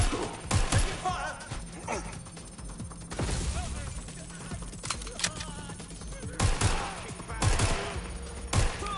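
Gunfire in the video game Watch Dogs: Legion crackles in scattered sharp shots and short bursts amid ambient noise, with a voice speaking in between.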